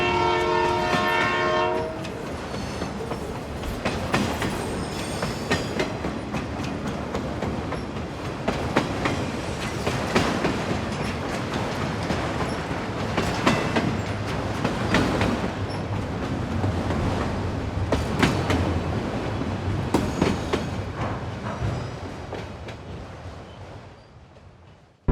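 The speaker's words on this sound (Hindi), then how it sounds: "Can you hear that? Finally, मेरी सफारी ट्रेन आ गई है।" Safari tourist train arriving and running on rails, a horn blast at the start, then the loud, continuous rumble and clatter of the cars rolling past, fading toward the end.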